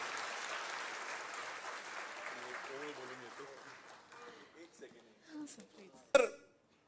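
Audience applause after a speech at a centenary commemoration gathering, a steady wash of clapping that fades out, with a voice speaking over it and a sharp bump near the end.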